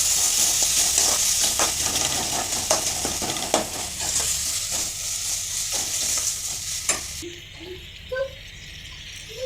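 Country chicken pieces fry with salt and turmeric, a loud steady sizzle broken by repeated clacks of a spoon stirring against the pan, fading to a quieter simmer with a few light taps at the end.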